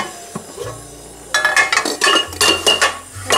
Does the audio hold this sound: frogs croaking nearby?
no